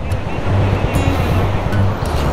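Fast-flowing Sutlej river rushing near a bridge in the mountains, a loud continuous roar of water with steady low rumble and no talk.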